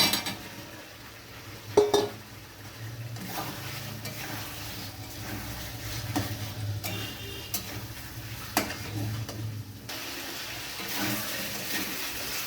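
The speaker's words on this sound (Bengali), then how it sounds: "এবার আমি ভেজে রাখা ফুলকপি আর আলুগুলো দিয়ে দিচ্ছি।" Fried cauliflower and potatoes being stirred into cooked masala in a pan make a soft, ongoing sizzle, with intermittent scraping and a few sharp ticks and knocks of a spoon against the metal pan.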